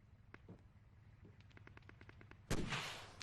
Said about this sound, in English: there's a guy out there shooting at me